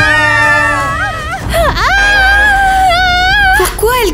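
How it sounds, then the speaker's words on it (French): A girl screams and wails loudly at close range at night in a haunted high school, her shrill voice rising and falling in long, strained cries with brief breaks over about four seconds. "Pourquoi elle crie?"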